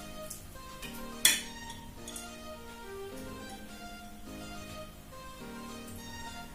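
Cloves, cinnamon and cardamom dropped into a pot, giving soft clinks and one sharp metallic tap against quiet background tones.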